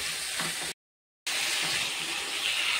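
Water poured from a tap onto spiced potatoes cooking with mutton fat, a steady close gushing splash that breaks off briefly and then resumes, no voices.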